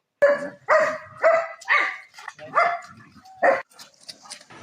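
A dog at a dog-breeding kennel in Dinajpur barks six times in a quick, uneven series. The sharp, close barks end in softer yips and whimpers.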